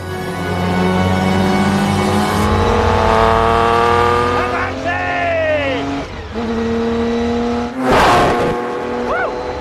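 A Ferrari P3 race car is driven on a narrow road. Its engine roars loud and close, revving up through the gears with rising whines, then abruptly blips and surges again, with a harsh burst near the end.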